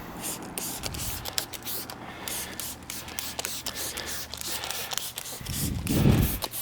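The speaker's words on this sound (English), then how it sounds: "we're going to spray the whole car with quick beads" Quick Beads detailing spray misted over a wet car in direct sunlight: a quick run of short hissing spray bursts over a low background rumble, with a louder, fuller burst near the end.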